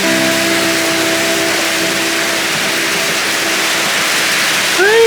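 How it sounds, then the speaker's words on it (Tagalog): Rain falls steadily, a broad continuous hiss that stays even throughout, with a brief hum near the start and a short rising tone at the end. "Ay, nag-ulan na pod."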